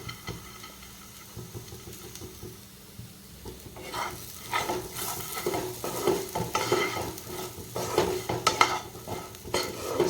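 A spatula stirs soaked sago with masala and cooked potatoes in a pan for sabudana khichdi, starting with a quiet sizzle and building into repeated scraping stirs over a steady frying hiss.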